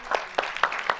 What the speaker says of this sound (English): let's just give everyone a round of applause